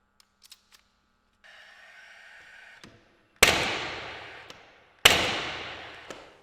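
A cordless gas-powered nailer drives strip nails into wood. Small clicks and a brief electronic whine come first, then two sharp, loud bangs about a second and a half apart, each trailing off in a short ringing decay.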